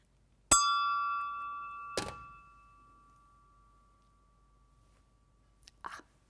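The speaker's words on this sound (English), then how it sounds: "Glass is clinking." Glass struck in a quiet room, a sharp clear clink that rings on with a long fading tone, a duller second tap, then a soft double clink a few seconds later.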